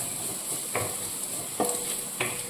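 A spoon scrapes and taps through pakoda curry in a pan as it is stirred in a few distinct strokes over a soft, steady sizzle, with no talking.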